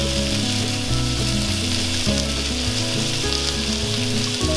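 Baby spinach is stirred into a Parmesan sauce in a hot skillet, giving a loud, steady sizzle with soft scraping stir sounds throughout and no talking.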